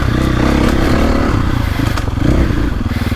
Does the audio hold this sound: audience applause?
no